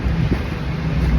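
Sea wind rushes steadily across the microphone at Manila Bay's Dolomite Beach, a loud continuous low roar with no voices.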